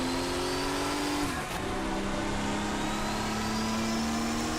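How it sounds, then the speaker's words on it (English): BMW Group 5 race cars in the Automobilista sim race behind, their engines droning and revving steadily with a brief dip and rise in pitch as a gear changes, continuous and fairly loud throughout. "We've got some BMWs behind us making some noise."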